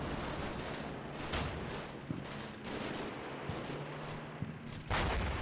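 Gunfire from an M240 machine gun in the wargame Combat Mission Shock Force 2, heard as a continuous wash of battle noise with repeated bursts and sharp cracks at a steady moderate level, no talk.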